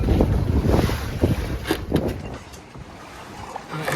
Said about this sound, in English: So it's just unreal how much waves there are.